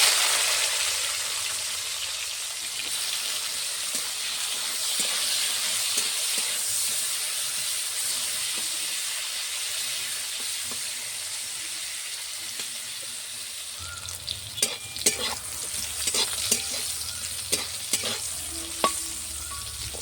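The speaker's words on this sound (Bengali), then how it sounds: "নুন হলুদ মাখানো উচ্ছেগুলো ভেজে নেব।" Bitter gourd pieces rubbed with salt and turmeric sizzle in hot mustard oil in a kadai, a steady hiss throughout, joined later by sharper pops and spatters.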